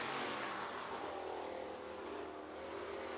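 Race car lapping the oval at Batesville Motor Speedway in Batesville, Arkansas, its engine a steady sustained roar heard from a distance, droning evenly throughout.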